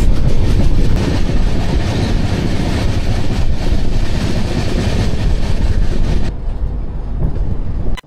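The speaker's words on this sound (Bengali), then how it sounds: "এই ট্রেনটি মালদা থেকে আসছে, অমৃত ভারত এক্সপ্রেস।" The Amrit Bharat Express from Malda roars past close by with steady rumbling and rhythmic clatter, then the noise cuts off abruptly near the end.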